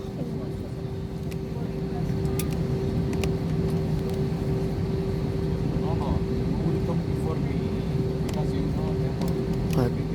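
An Airbus A320 taxis toward a terminal gate after arriving from Bangalore in Kathmandu, Nepal, heard as a steady, loud engine hum with a constant whine inside the cabin and faint clicks over it.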